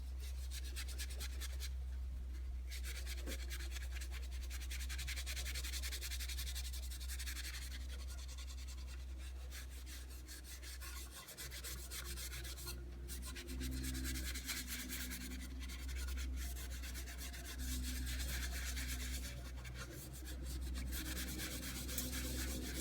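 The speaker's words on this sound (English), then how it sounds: "Okay, so I'm just going to buff off." Steady rubbing of a cloth rag buffing black hemp oil furniture wax off distressed painted wood furniture, a continuous close scuffing texture with a constant low hum underneath.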